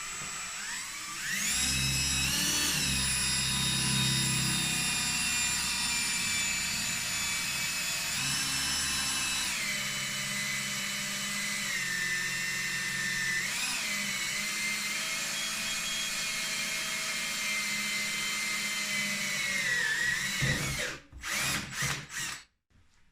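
A power drill with a drill bit bores holes in a 2009 BRP Summit REV XP snowmobile for an ice scratcher install, a steady close whine running about twenty seconds with brief pitch dips, then cutting off into a few clicks.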